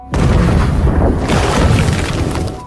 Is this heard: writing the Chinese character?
no